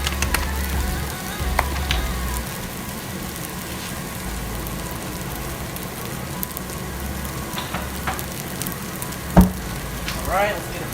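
Udon frying in a pan, a steady close sizzle running throughout with a few scraping stirs and clicks near the end.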